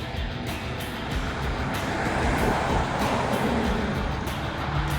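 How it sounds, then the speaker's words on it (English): A northbound train approaching a railroad crossing on Main Street in Walton, Kentucky, a steady broad rumble with road traffic, building slightly and heard from a short distance. "we got a train coming from that direction, northbound"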